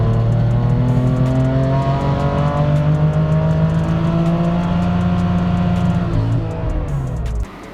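A heavily modified BMW M3 F80 on E76 fuel, built toward 1,000 horsepower, pulls hard on a dyno, its engine note rising steadily for about seven seconds at full load before abruptly cutting off.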